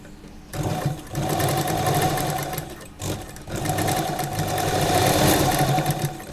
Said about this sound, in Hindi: पहले हम ये सिलाई लगाएंगे, उसके बाद हम ये सिलाई लगाएंगे।